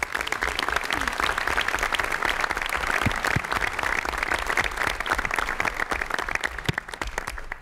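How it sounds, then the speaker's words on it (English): A conference audience at Governor Cuomo's NY Rising Community Reconstruction event gives a sustained round of applause, steady, dense clapping filling the room for several seconds without a break. "Let's give them a round of applause"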